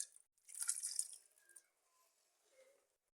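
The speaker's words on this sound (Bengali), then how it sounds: "এতে পানি দিব হালকা।" A little water poured over marinated chicken in a pot, a short close splash and trickle followed by faint drips and small liquid sounds that fade into quiet.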